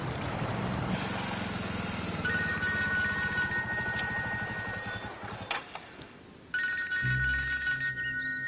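A telephone rings in two bursts separated by a brief pause, its bright electronic tone loud and close with no talk over it.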